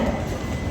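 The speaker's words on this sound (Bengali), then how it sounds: "ট্রেনটি আমাদের 2 নম্বর প্ল্যাটফর্মে এসেছে" A long-distance train pulls into a station platform at the end of a 1945-kilometre run, heard as a brief, steady, close low rumble with no voices.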